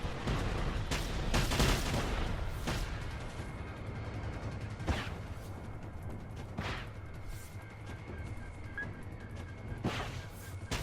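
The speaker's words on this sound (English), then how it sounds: "I want this guy with the handgun to start shooting at me" Scattered gunshots sound during a firefight in the video game Generation Zero, with handgun fire from an enemy. Sharp cracks come at irregular intervals over a continuous low rumble of combat, some nearer and some more distant, and there is no talking.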